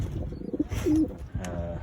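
Pigeons from a backyard loft with open nest boxes coo a few times at close range, soft throaty calls over a low rustling background with no talking.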